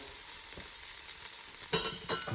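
A stick of butter melts and sizzles in a pan for garlic butter steak bites, an even close hiss with a couple of sharper scrapes as it is moved around near the end; no voices.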